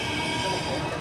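A second-generation Athens metro Line 2 train pulls out of Dafni station with a loud, dense rumble and wheel roar that fills the space, steady and close throughout.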